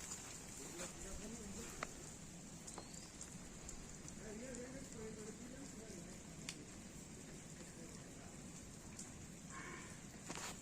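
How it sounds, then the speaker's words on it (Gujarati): Steady, continuous rain pattering on surfaces all around a farm, with a few sharper drips and a faint voice murmuring underneath. "વરસાદનું પ્રમાણ પાછું વધી ગયું"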